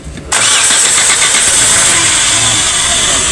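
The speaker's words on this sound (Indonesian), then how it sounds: "Saya hidupkan lagi mesinnya" A Daihatsu Feroza engine cranks and catches, bursting into a loud, close, steady idle that runs on without pause, with no talk.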